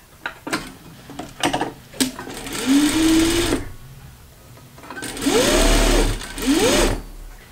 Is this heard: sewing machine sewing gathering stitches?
yes